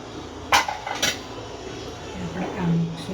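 A metal dhokla plate is set into a steamer pot, giving two sharp clanks close together, followed by softer scraping and handling noises in a quiet kitchen.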